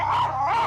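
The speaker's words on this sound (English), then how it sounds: "There's a dog behind you." A single close, strained dog bark drawn out into a whining yelp, loud and brief with no talk over it.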